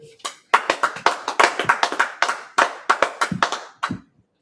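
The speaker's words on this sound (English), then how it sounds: "Clap it up." Rhythmic group clapping at a church gathering, sharp close claps falling in quick irregular bursts and pauses, loud and dry in a small room, stopping abruptly near the end.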